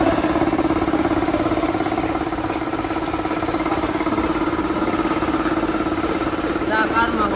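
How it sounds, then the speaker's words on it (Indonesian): An electric motor driving a compressor runs steadily during a vibration and temperature check, a continuous mid-pitched hum with a faint rhythmic beat, a brief higher chirp near the end. "Pertama kita akan menghidupkan motor listriknya dulu."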